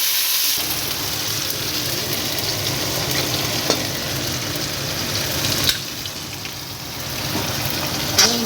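A paste of cumin, ginger and garam masala frying in a pan for village-style khichuri, giving a loud continuous close sizzle with occasional sharp ticks and scrapes.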